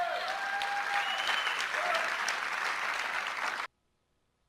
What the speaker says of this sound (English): you have the audience celebrating and everyone cheering and applauding